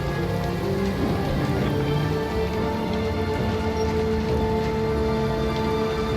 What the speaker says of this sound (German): Jetzt mal ein bisschen Regen mit einer schönen, stimmigen Musik, muss ich sagen.